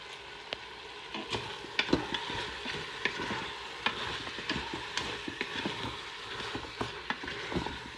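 Onions and a cinnamon stick frying in a blend of neutral oil and olive oil for a prune and almond tagine, a steady close sizzle broken by scattered stirring clicks and scrapes, no voices.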